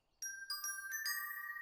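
Cartoon bell sound effect from Mickey Mouse Clubhouse: several bright chiming strikes in quick succession, ringing out with a lingering shimmer, soft and clean against near silence.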